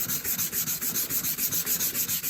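Scratched, pitted headlight lens from a Range Rover L322 being sanded by hand, a close, even back-and-forth rasping in a steady rhythm of about twelve strokes, alone with no voices.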